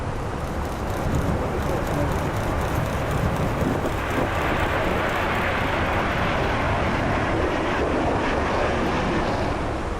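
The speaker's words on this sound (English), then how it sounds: "This Airbus A350 making an incredibly steep takeoff from Berlin." An Airbus A350 jet roaring on a steep takeoff at Berlin, a loud, steady broadband engine rumble with a hissing top that stays constant and close throughout.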